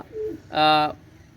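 A single low pigeon coo rises briefly and clearly, close by, after a faint murmur.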